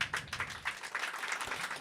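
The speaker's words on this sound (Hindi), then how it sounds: "तो एक बार ज़ोरदार तालियाँ।" Applause from an open mic audience at an indoor event: a short, moderately faint patter of many hands clapping at once, steady and scattered throughout.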